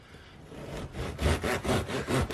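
A knife saws through a bagel in a series of rhythmic back-and-forth strokes, each a rough rasp, growing firmer and louder as the blade works through the bread.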